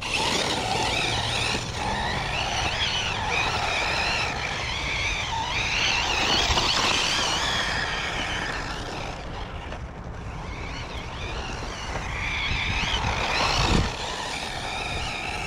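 Arrma Typhon 6s RC car with 300k diff fluid tearing around on dirt, its electric motor whining loud and continuous with rising and falling pitch as it speeds and turns, plus gritty crunch from the tyres; no speech.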